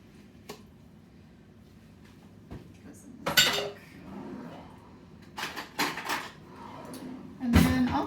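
Utensils clatter and scrape in a bowl as ingredients including peanut butter are mixed, with a few bursts of clinking and knocking between quieter stretches.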